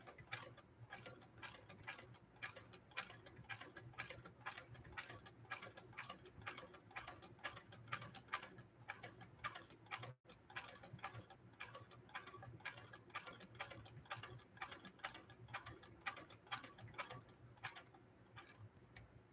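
A Centennial Singer 99K hand crank sewing machine stitches steadily, its needle mechanism ticking in a fast, even rhythm close by, with only a brief pause midway and no talking.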